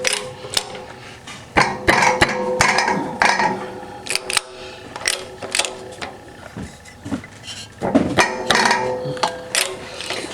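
A reverse hub is pressed down onto a piston during an automatic transmission rebuild, giving irregular metallic clanks, clicks and ratcheting knocks close up, with sharp transients spread over a steady mechanical background.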